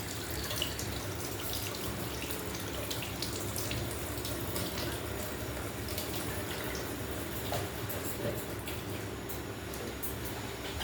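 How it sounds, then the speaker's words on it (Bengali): Running tap water splashes steadily as a spoon is rinsed under the faucet, a continuous close wash with small drips and clinks throughout. "এখন এটা ধুয়ে নিই"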